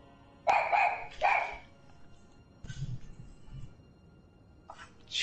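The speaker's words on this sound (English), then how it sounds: "What the fuck's my dog barking?" A dog barks indoors: two loud, close barks, then softer grumbles and a final bark at the end, with no talk.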